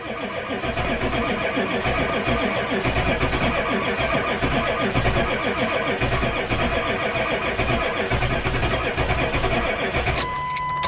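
Engine cranking on a very cold morning, the glow plugs preheated first, makes a continuous loud churning that runs for about ten seconds, and a steadier tone joins at the end.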